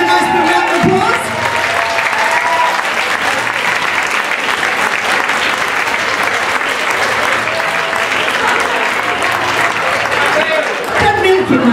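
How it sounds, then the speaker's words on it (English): Audience applause for Matteo at the Paintopia Parade, a loud sustained ovation of many hands that carries steadily for about ten seconds, with voices mixed in, before tapering off. "Give him a nice big round of applause."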